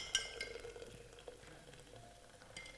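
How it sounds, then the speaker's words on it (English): Boiling water with pepper, vegetable stock and chicken stock is stirred in a pot, making faint scraping and sloshing with a few clinks over a quiet bubbling background. "Give it a bit of a stir"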